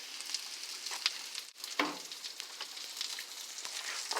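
Asparagus sizzles and fries steadily in a hot pan for a vegan dish, a continuous crackling hiss with small pops and one brief dip partway through.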